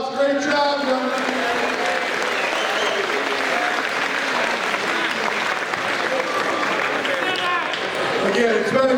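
Steady, loud applause from a school assembly crowd honoring a conference-champion football team, a dense wash of clapping filling the whole stretch without a break, with faint voices mixed in.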